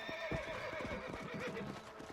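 A horse in the video game Red Dead Redemption gives a sharp whinny over a quick run of clip-clopping hooves, close and clear for about two seconds with faint game ambience underneath.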